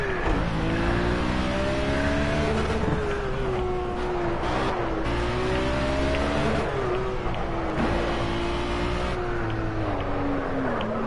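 Race car engine in the video game Project Cars, revving hard and rising through repeated gear changes, with pitch climbing and dropping in a loud steady stream, no talking.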